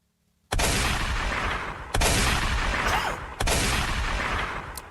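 Three loud gunshots, each a sharp crack with a long echoing decay, spaced about a second and a half apart after a brief quiet start, with no voices.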